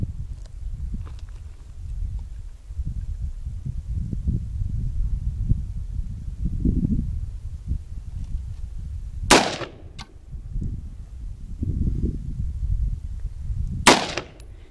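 Two sharp, loud gunshots fired at a dishwasher, several seconds apart, standing out over a low rumble of background noise and handling sounds.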